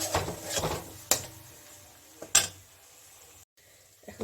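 Gobindobhog rice and spices fry in oil for mulor ghonto, a radish dish, with a faint sizzle under a few sharp clinks and scrapes of a spoon against the pan, then a brief quiet.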